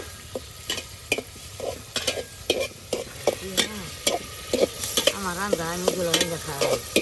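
Spices being stir-fried in oil for a dried fish curry cooked by elderly village grandparents: a steady sizzle with repeated scraping strokes of a spoon against the pan, close by, with brief vocal or animal-like chirps in the background.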